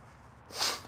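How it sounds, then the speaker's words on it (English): One short, muffled nose blow into a towel, a soft, breathy burst lasting under half a second against quiet background hiss. "At least I'm using a towel, something to blow my nose with."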